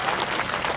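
Rally crowd at a Hindi election campaign address claps loudly and continuously in a dense, even wash of applause with no pauses.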